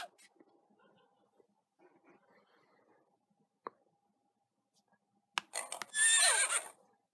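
A single loud horse neigh rings out near the end of a quiet stretch in the Imagine: Babysitters video game, preceded by faint clicks and soft background sounds.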